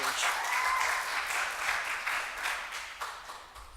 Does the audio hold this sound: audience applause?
yes